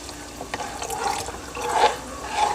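Water splashes and trickles steadily into a container, close by, with the flow swelling louder toward the end.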